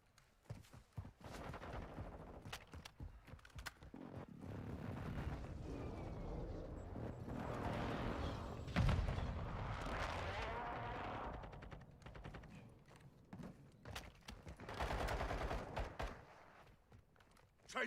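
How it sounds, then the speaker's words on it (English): Call of Duty Modern Warfare 2 gameplay with an enemy precision airstrike: a sustained roar of heavy blasts and rattling gunfire, swelling around the middle and again near the end, loud and dense throughout. "Enemy precision airstrike."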